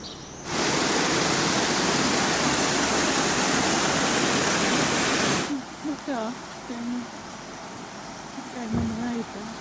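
A burn, a local stream near the Hareshaw Lynn waterfall, rushes loudly and steadily up close for several seconds, then drops away to a quieter background where a voice briefly speaks.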